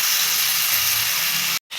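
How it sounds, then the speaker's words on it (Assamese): Chicken pieces and onions fry uncovered over medium heat in a pan, giving a loud, steady sizzle and hiss that runs unbroken before cutting out briefly near the end. "মিডিয়ামত ৰাখি মই লৰাই ঢাকনি নিদিয়াকৈ ভাজি ল'ম।"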